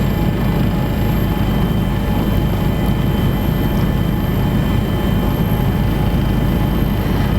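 East Java police search and rescue helicopter in flight, a loud constant rotor and engine drone with steady low rumble and faint high whine, no voices.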